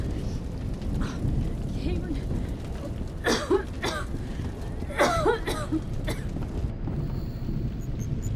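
Video game characters cough in short bursts while fleeing a fire, with a few harsh coughs standing out over a steady rumbling, rain-like background.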